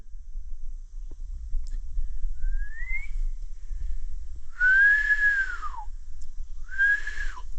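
A person whistling outdoors in Big South Fork near big rocks, three rising and falling whistles, the last two longer and clearer, over quiet wind-like background rumble.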